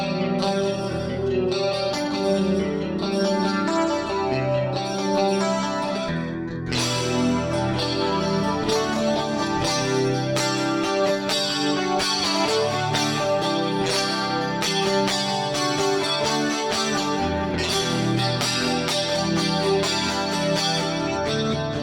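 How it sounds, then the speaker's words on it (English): An 80s-inspired guitar preset on a Line 6 HX Stomp with stereo pitch detune: dense, shimmering chorused chords play continuously and loud, with a wide, swirling wash and some grit, and no talking. "I've added some extra options for you all to play around with, like some stereo pitch detune."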